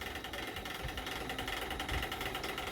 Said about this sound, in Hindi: किनारे किनारे पे मैंने एक सिलाई कर दिया है